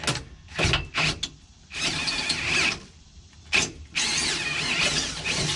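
Power drill boring a mounting hole for a Curtis cab side mirror on a Kubota BX tractor, running in several loud whining bursts with short pauses between, squealing as the bit bites into the metal.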